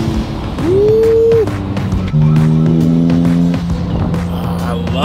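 A Ferrari Enzo engine revs hard and accelerates, loud and close, its pitch climbing and holding in sustained pulls across the clip.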